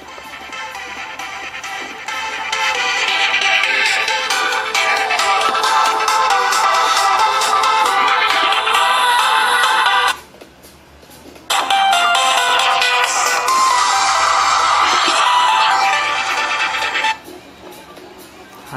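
A sample music track plays from the built-in speaker of a Samsung C3322 mobile phone. The tinny melody runs loud and steady, breaks off briefly twice and then resumes.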